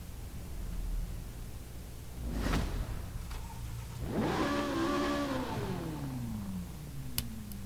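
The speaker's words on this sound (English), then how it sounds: "now let's jump into the interior and turn on the car" A Ford twin-turbo V6 in a Noble M400 supercar starts up in Forza Horizon 5, a short crank followed by a rising rev that swells and then settles into a lowering idle, with a faint click near the end.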